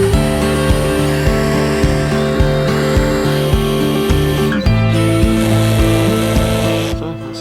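A power driver sets a bolt into thin, one-centimetre wood on a homestead building being storm-proofed, its motor humming in a steady pulsing rhythm of repeated bursts, loud and close, easing off at the end.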